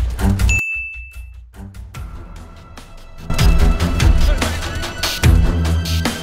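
A bell dings once in Fortnite, a clear high sustained tone near the start, followed by loud bursts of game action such as shots and impacts.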